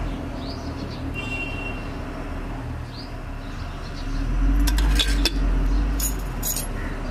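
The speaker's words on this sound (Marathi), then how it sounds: "आता असं चमच्याने हलून घेऊ, सगळे मिक्सचर करू अशी." A spoon stirs oil into ground red chilli paste for a village-style thecha, with a few light metallic clinks against the bowl over a steady low background hum.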